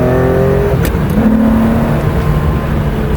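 A Porsche RSR Rebel car engine revs hard and steadily, its droning pitch rising then settling, loud and close with no talking.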